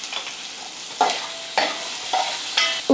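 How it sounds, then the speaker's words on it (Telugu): Tomatoes and onions sizzle in a pan with turmeric, as a spoon scrapes and stirs in several distinct strokes over a soft steady fry. "మన టొమాటోలు, ఉల్లిపాయలు తొందరగా ఫ్రై అవుతాయి"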